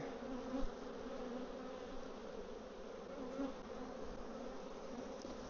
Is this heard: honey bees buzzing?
yes